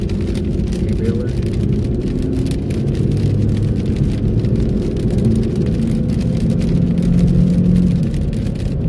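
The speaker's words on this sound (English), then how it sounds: "Farm truck." A farm truck's steady engine rumble and tire whir run for several seconds under a constant low roar of road noise, the engine note shifting slightly as it goes by out on the open plains.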